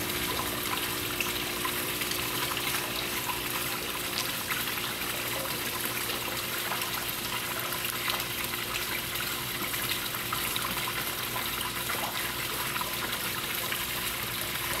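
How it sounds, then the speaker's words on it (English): Water flowing steadily into the ballast tank of a 1/32 scale German Type VII radio-controlled model submarine, a constant soft hiss of filling liquid with no change throughout. "there's water getting sucked into the ballast tank,"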